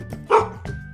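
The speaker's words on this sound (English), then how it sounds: "It's a dog." A small dog gives one short, sharp bark, close and clear, with quieter yips around it.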